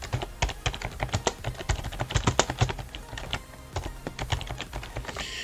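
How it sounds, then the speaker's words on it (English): Fingers type on a computer keyboard in rapid, irregular bursts of sharp clicks. The keys sound close and fairly loud, with brief pauses between runs and no voices. "Oh, the keyboard."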